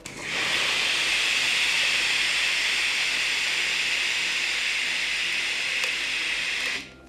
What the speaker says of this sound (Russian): Итак, смотрим влажный пар Mi Assistente DeVapor.